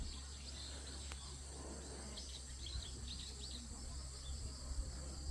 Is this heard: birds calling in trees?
yes